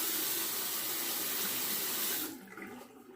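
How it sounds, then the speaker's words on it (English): Water runs from a bathroom tap to wet a razor, a steady close rush for about two seconds that cuts off abruptly, leaving faint trickling. "wet the razor here."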